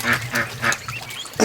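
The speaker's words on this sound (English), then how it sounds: "Look at that goose. I'm just trying to find my Chinese goose here." A Chinese goose on a farm honks in short, nasal calls, three evenly spaced near blasts followed by a couple more, loud and close with no talking.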